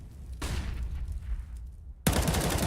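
Gunfire in Counter-Strike, two sharp loud shots about one and a half seconds apart, each with a crackling burst and decaying tail, over low game ambience without talking.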